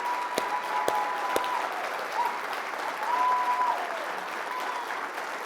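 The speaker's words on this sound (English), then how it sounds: "You deserve a round of applause." An audience at a NATCA event in Washington in 2023 gives sustained, steady applause that fills the hall, with a few sharp claps and faint tones through it.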